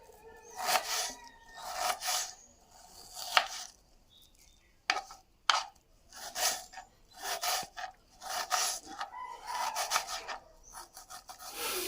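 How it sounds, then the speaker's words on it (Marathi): Ingredients are finely chopped for grinding on a village grinding stone, with repeated close rasping, scraping strokes in uneven bursts separated by short pauses. "पाट्यावरती वाटायचं आहे सो बारीकच कापूया म्हणजे लगेच वाटेल"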